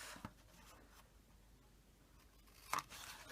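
Scissors snip the edges of a paper Halloween lantern, two or three short, crisp cuts close by, with quiet paper rustling between them.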